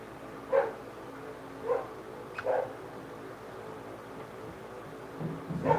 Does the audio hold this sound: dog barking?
yes